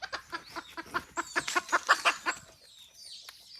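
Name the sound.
rooster crowing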